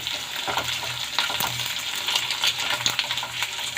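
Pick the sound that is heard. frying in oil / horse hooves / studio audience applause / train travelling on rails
frying in oil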